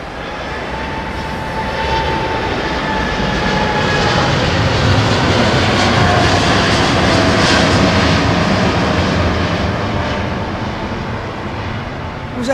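A jet airliner performs a go-around at Heathrow Airport, its engine roar swelling loudly and holding near, then easing slightly toward the end.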